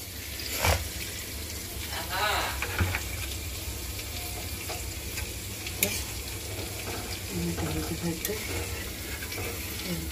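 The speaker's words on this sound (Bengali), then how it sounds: "এখন আমি ঝোলের পানিটা দিয়ে দিব।" Water poured into a pan of braised meat curry to make gravy, a continuous splashing hiss over the sizzle of the hot pan, close and moderately loud, with a faint voice in the background.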